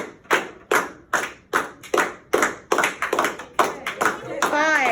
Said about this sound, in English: I love how the clapping was so in sync